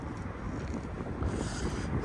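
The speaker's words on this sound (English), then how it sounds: "Hope the wind's not blowing too much on the camera. It's a bit windy in the yard today." Wind buffets a camera microphone outdoors in a yard, a constant low rumbling roar with gusty swells and no voices.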